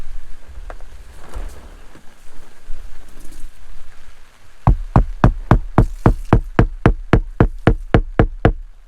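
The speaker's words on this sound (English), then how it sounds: "push it straight down, and then we're just going to hammer." After some quiet shuffling, a hammer strikes a hole punch through leather about fifteen times in a steady, even rhythm, each blow sharp and close.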